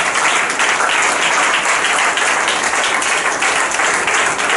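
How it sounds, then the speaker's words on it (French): A church congregation applauds during a sermon, a dense, steady roar of many hands clapping at once that holds at full strength from start to finish with no pauses. "Continue d'acclamer le Seigneur."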